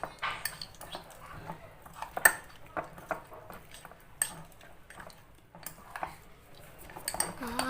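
A utensil stirs glue slime in a bowl, giving close, irregular clicks and soft sticky squelches in short uneven bursts, with quiet gaps between strokes.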